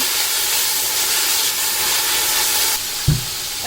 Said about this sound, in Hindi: ये सब्जी शामिल कर दूँगी सारी। थोड़ी देर के लिए इसको भूनूंगी